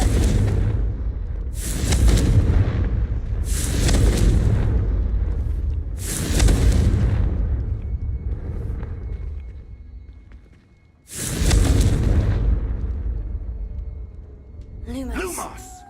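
Confringo fire spell explosions in Hogwarts Legacy boom loudly and close, four or five deep blasts each trailing into a rumbling decay, with a lighter magical chime at the end.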